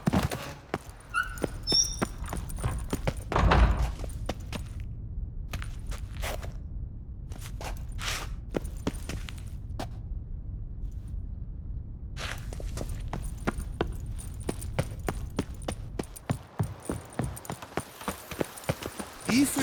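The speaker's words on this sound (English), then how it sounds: "you ride it with a constant gallop." Horse hooves pounding at a steady gallop in The Witcher 3 video game, a dense, continuous clip-clop rhythm heard close up, with faint speech now and then.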